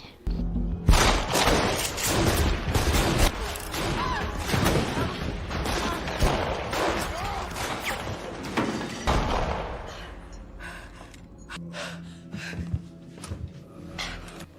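A close-range gunfight in a cowboy film breaks out at a hotel, with loud dense bursts of shots, thuds and crashes over the first nine seconds before fading to quieter scattered sounds.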